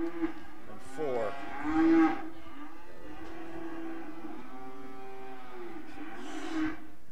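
Red blaze brockle-faced heifers at a cattle show and sale give a few drawn-out moos, one louder call near the start followed by softer, lower lows against a quiet hall.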